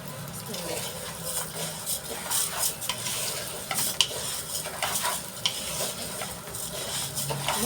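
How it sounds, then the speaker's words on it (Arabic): Minced chicken kofta mixture is stirred together with rice in a hot pan, a close, continuous sizzle with scraping spoon strokes and an occasional clink against the metal. "هقلب بقى كل المكونات دي مع بعض في الرز"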